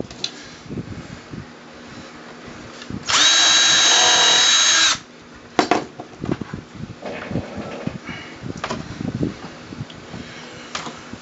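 A power drill deepens a hole in a paracord jig in one loud, close burst of about two seconds, set among quieter handling knocks and workshop noise.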